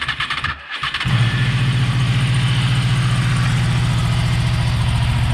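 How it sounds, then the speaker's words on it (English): A Honda VFR800 VTEC V4 motorcycle on its standard exhaust cranks briefly, fires up and settles into a steady, close, loud idle with an even low throb, no talk. "They sound as you'd expect from a V4 engine."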